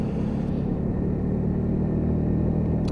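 A Lexmoto Milano 125cc motorcycle holds a steady engine drone while cruising at about 40 mph, a continuous low rumble mixed with road and wind noise, close and even throughout.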